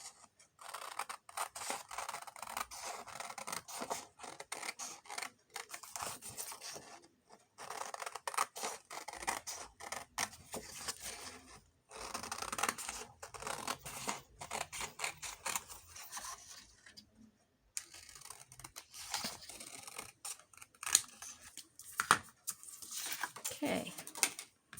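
Scissors cut through heavier cardstock for a junk journal in a long run of crisp, rapid snips with brief pauses, close and quiet, no voices over the cutting.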